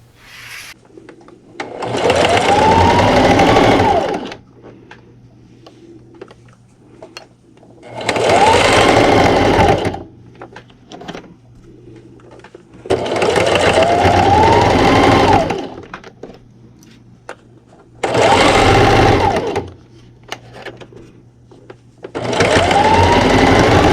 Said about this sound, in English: I'm just going to base stitch right along the top of my towel just so my pleats stay